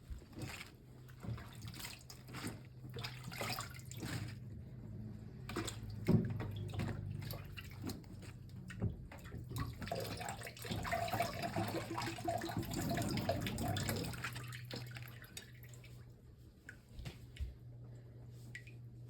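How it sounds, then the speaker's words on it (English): Vegetables being washed under running tap water for spring rolls, a steady splashing stream with drips and wet handling noises, close and moderately loud throughout. "Let's wash the vegetables thoroughly and put it in the plate."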